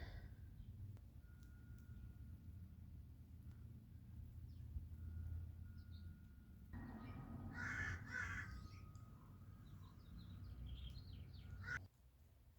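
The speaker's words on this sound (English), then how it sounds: "Listen to that bird." A crow caws a few times in the distance over a quiet outdoor background, faint calls standing out briefly midway through.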